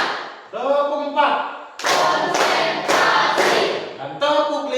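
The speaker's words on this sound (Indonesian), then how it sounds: "Tepuk 4." Classroom group clapping on a counted call: several sharp rhythmic bursts of many hands striking together, interleaved with voices chanting the pattern aloud, loud and close.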